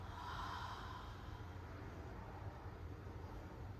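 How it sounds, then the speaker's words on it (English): A steady open-mouthed exhale during a yoga breathing round, a broad breathy rush lasting the whole stretch at even loudness with no voice over it. "Open the mouth, exhale."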